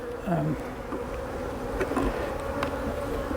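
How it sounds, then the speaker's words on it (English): Continuous close buzzing of many honey bees on a hive frame, a dense droning hum that stays steady and fairly soft throughout. "They've drawn this frame out. Got tons of bees."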